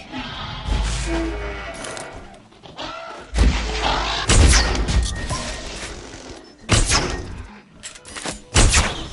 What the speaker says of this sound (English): Warning. Ranger vehicle under attack.